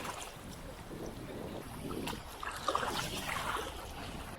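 Steady rushing water with a broad hiss, constant and moderately distant, like river rapids churning without pause, on the Blue Earth River in Minnesota.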